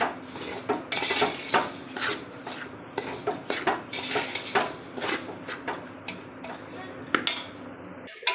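Semolina is roasted in ghee in a pan, a spoon scraping and clattering against the metal in a brisk, irregular rhythm, close up and without talk.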